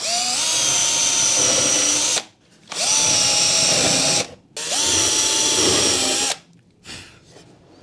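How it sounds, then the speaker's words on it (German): Power drill boring screw holes into a wood panel for a homemade TV cabinet, in three loud sustained bursts of about two seconds each, separated by short pauses, then a brief final blip. "Machen wir hier für die Schrauben, für die Bohrungen"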